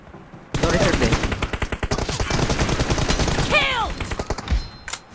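Rapid automatic gunfire from an M416 rifle in a team deathmatch video game match crackles loudly in long bursts, while someone talks excitedly over it and the shooting stops near the end.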